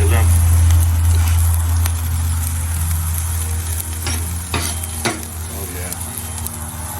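Vegetables cook in a pan for an Oktoberfest beer burger, giving a steady loud sizzle with occasional stirring scrapes while someone talks briefly.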